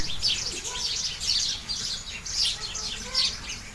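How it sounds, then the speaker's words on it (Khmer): Several birds chirp and tweet in the morning in quick high bursts, repeating every second or so, fairly close against a quiet outdoor background. "បងប្អូនចាំស្ដាប់សំឡេងចាប"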